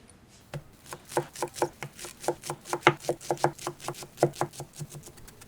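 Rapid knife chops of fresh parsley on a cutting board, about twenty crisp, evenly paced taps close up in a quiet kitchen.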